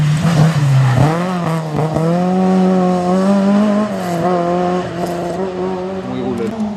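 Race car at the Quettreville hill climb, 2017, its engine note rising and falling through the gears in a loud, sustained, close-up pass.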